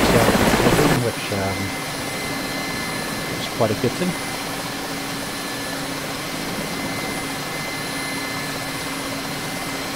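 A Mil Mi-8 MTV helicopter taxiing on its wheels in DCS, a continuous loud turbine and rotor drone with a steady whine, briefly louder at the start, while someone talks over it.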